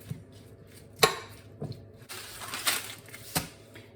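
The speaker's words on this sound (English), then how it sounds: "I'm going to just give that a good mix now." A tangy mixture for a sea bass dish gets stirred in a bowl, with a few distinct clinks and knocks of a utensil, then a stretch of soft scraping and swishing, close and moderate in level.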